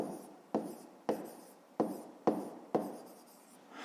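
Pen strokes of handwriting on paper during a 5th-grade math exercise: five distinct scratchy strokes at a steady rhythm, close and fairly quiet, with no talking.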